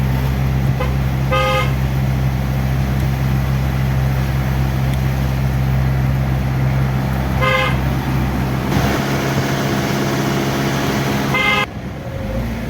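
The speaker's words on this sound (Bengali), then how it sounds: "হর্ন দাও।" Car horn honking in short repeated toots over a loud, steady engine drone from inside the vehicle, three separate blasts spread across the stretch.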